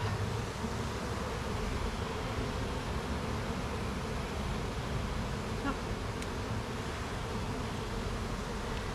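Honey bees buzzing loudly and steadily at close range throughout an open hive inspection, forming a dense, continuous drone with no talk over it.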